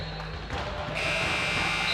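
A game-ending buzzer sounds at an Ontario Junior Lacrosse League game between the Whitby Warriors and Toronto Beaches, a steady electronic tone rising over arena noise in the second half and holding loud to the end, with talk beneath.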